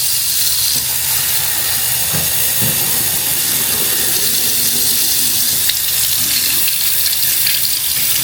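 Steady rushing of water pouring from a hotel shower tap, a continuous broadband hiss with a few faint knocks, close and fairly loud, no talking.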